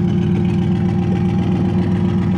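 A TH400-swapped twin turbo 2023 Ford F150 engine running while driving, a loud, steady, low droning hum close by with no talk.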